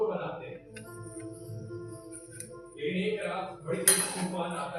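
Dishes, pots and pans clatter and clink as they are gathered up in a home kitchen, with intermittent metallic knocks and a louder burst of clanking near the end, while a voice talks faintly over parts of it.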